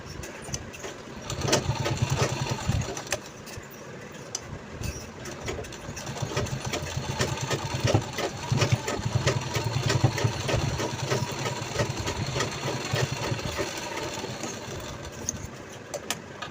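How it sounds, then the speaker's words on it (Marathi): A sewing machine stitches a denim pencil pouch made from old jeans, its quiet motor buzzing in short runs and pauses at close range with a light mechanical rattle. "आता आपल्याला दुसऱ्या साईडने देखील शिलाई करून घ्यायची"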